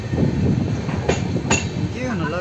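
The Podhigai SF Express pulling into Rajapalayam railway station, a steady rumble of rolling wagons with wheel clatter and brief metallic squeals, crowd noise around it.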